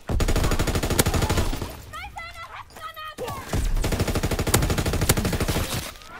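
Gunfire in a World War II shooter rattles in rapid automatic bursts, loud and close, pausing briefly midway while a voice speaks, then resuming in dense rapid fire with a few sharper single cracks.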